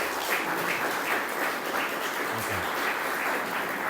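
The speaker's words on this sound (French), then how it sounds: "je pense qu'on peut encore applaudir notre conférencier." Sustained applause from a lecture audience, steady and even throughout, with no speech over it.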